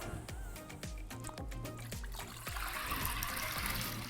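Soaked green moong dal tipped into a pot together with its soaking water, giving a steady, close splashing pour that swells louder partway through, over a low rhythmic thumping beat.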